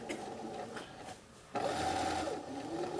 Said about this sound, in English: If I stay stitch that around the bottom, it makes it easier to turn it as a corner.